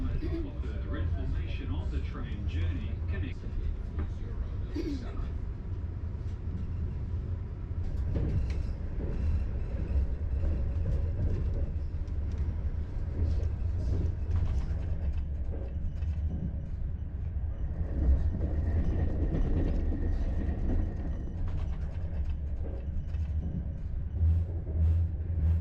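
A passenger EuroCity train rumbles steadily along the tracks between Brno and Budapest, a continuous low rolling drone heard from inside the carriage with occasional clunks and a voice talking over it.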